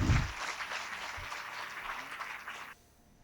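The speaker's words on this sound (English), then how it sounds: "Let us warmly welcome him with a big round of applause." An audience at a Guinness record attempt for mass Siddha Varma therapy breaks into applause, a dense burst of clapping that starts loud, fades slowly and then cuts off abruptly.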